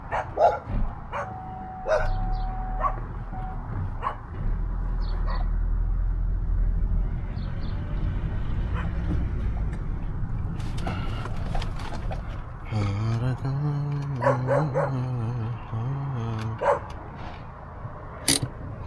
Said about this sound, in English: Oh my god, they have small dogs.